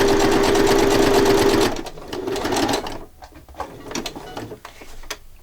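A sewing machine stitches around the outside edge of fabric in a rapid steady whir that stops partway, followed by quieter clicks and mechanical handling.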